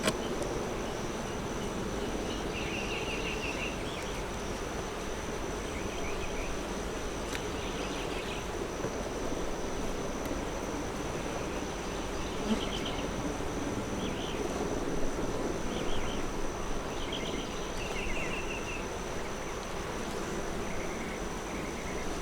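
Honey bees hum in a dense, continuous drone at the hive, steady and close throughout with no voices.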